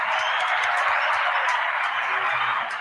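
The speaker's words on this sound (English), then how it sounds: "since we got claps going, man, let's clap it up for Lil T60K in the building" A studio audience applauds Lil T60K on a morning talk show, steady dense clapping that holds at an even level throughout with no pauses.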